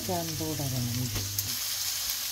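Beetroot and beetroot leaves sautéing in a pan give a steady close sizzle and fry hiss. A low tonal hum runs through the first second and a half, with a brief clatter midway.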